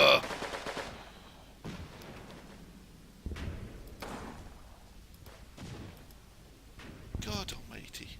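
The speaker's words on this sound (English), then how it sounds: "Got a machine gun there." Machine gun fire in the WWII tactics game Combat Mission: Battle for Normandy, with loud sharp bursts and impacts recurring at intervals, some distant, while someone talks over the action.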